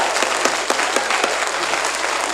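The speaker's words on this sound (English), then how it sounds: "It is not in order to applaud when somebody loses a vote." Town meeting attendees clapping right after a vote, a short burst of dense applause from a seated crowd in a hall, moderately loud and steady, with no speech over it.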